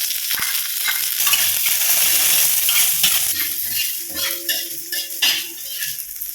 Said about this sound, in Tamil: தாளிச்சு கொட்டியாச்சு